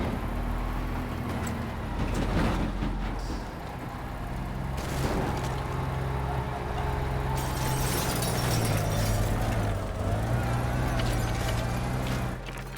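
Cement truck driving in the destruction game Teardown, a low rumbling engine drone that shifts in pitch as it moves, punctuated by sharp crashing and impact bangs.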